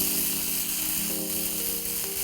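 Chicken masala sautéing in a pan for a Reshmi chicken curry, a steady close sizzle and fry hiss running unbroken with no one speaking.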